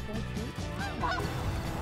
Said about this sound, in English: sees a flock overhead, so we rush back into the blind